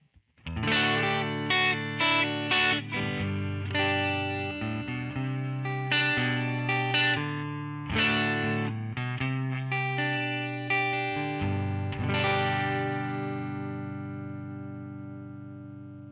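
Electric guitar played clean through a Fender Twin amp model, strummed chords and picked notes ringing out close and clear, fading at the end, with no talk.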